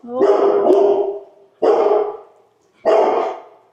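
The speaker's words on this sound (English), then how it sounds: "guard dog." A guard dog barks three times in a garage where a 1964 Buick LeSabre is being worked on, each a loud close deep bark with a short tail, evenly spaced about a second and a half apart.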